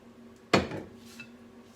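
A single sharp metallic clank as a heavy handleless pan is set down in a home kitchen while making bread pudding, close and alone, ringing briefly before fading.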